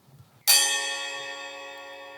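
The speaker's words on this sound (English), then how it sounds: "which is a little 12-inch bell" A single sharp metallic strike on a small 12-inch bell-like ride cymbal rings out bright and shimmering, its tone sustaining and slowly fading, after a moment of near silence.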